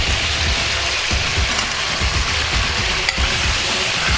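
Potatoes fry together with nearly browned meat in a pan for a king-size pulao, a loud, dense rain-like sizzle filling the whole stretch with occasional stirring knocks, close by and without talk.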